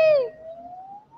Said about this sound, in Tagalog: Dami ng ambulansya.